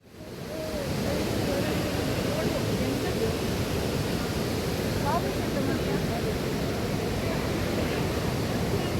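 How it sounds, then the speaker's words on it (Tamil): Water of the Nandini river near a temple in Mangalore rushes loudly and steadily, a dense continuous roar that holds at the same level from start to finish, with nothing else standing out. "தண்ணி எவ்வளோ ஆர்ப்பரித்து சத்தத்தோடு ஓடுறது பார்த்தோம் இல்லையா?"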